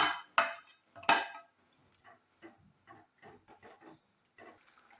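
Roasted semolina tipped into boiling water in a pan and stirred, opening with a couple of sharp, close metallic clanks, then softer, intermittent scraping and stirring sounds.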